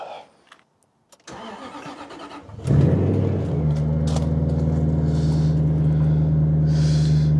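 A Jaguar XK8 fitted with an Adamesh exhaust system cranks and fires after a few clicks, then settles into a loud, steady, throaty idle close by, with no voices.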